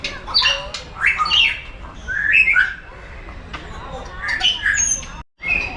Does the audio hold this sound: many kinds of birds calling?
yes